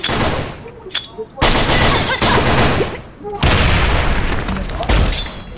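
Video game gunfire from a shooter, with a rifle mentioned, breaks out in loud, close bursts of rapid shots separated by brief pauses, while players talk excitedly over it.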